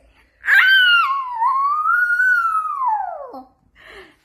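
A person imitates a wolf howl with one long, loud, drawn-out vocal tone that rises sharply, holds steady, then falls off, followed by a brief quiet breathy sound, heard alone.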